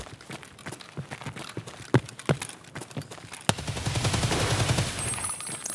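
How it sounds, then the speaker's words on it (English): Gunfire in an Escape From Tarkov firefight, scattered sharp shots and short bursts at varying distances, then a sustained rough rumble of heavier firing, no talking. "Damn firefight in here."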